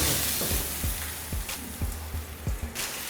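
Garlic or onion sautéing in a hot pan, a steady close sizzle broken by repeated soft clinks and scrapes of a spatula stirring.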